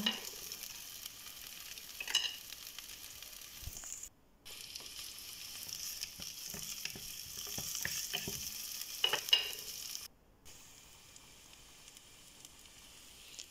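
Green beans and carrots frying in a pan, stirred with repeated scraping strokes over a steady sizzle, with two brief pauses in the cooking noise.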